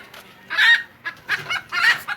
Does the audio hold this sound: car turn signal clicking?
no